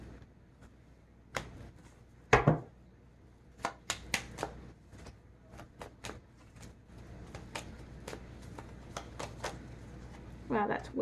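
Tarot cards being shuffled and handled, a series of quick sharp riffles and snaps spaced irregularly, close and moderately loud, with short bursts of speech between them.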